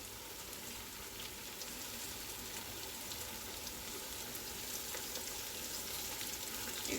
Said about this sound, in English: So you're just going to pan fry this for 2 to 3 minutes on each side